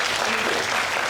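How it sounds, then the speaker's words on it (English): A school STEAM week audience bursts into brief, dense applause, a steady wash of many hands clapping at once with no pauses. "But let's give her an applause"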